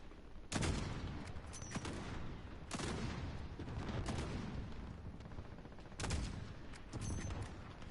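Rapid gunfire from squads of soldiers in Call of Duty: Modern Warfare, several dense bursts of shots and booms rolling into one another with hardly a pause, loud and close throughout.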